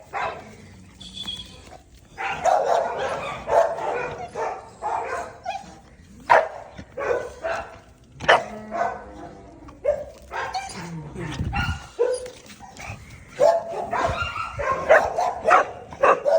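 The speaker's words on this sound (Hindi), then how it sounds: "जस्ट भौंक रहा उसके ऊपर" A dog barks and yips in repeated bursts at a bear, with some whimpering between outbursts, while a person talks over the commotion.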